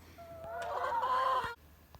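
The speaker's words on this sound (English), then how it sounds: "You can hear how they squawk and carry on" A laying hen lets out a drawn-out, raspy squawk close by, rising and holding for over a second before cutting off.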